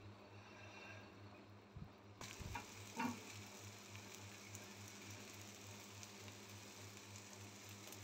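Steady low sizzle of an omelette with bread frying in oil over medium heat, faint and continuous throughout, with a brief scrape or clatter from turning it partway in.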